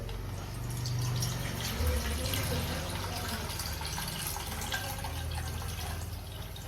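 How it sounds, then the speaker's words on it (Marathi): Buttermilk water being poured off from soaked dosa batter ingredients in a home kitchen, a steady soft trickle and splash of liquid running throughout, moderately close, with no voices. "आता हे पाणी काढून घेऊ असं"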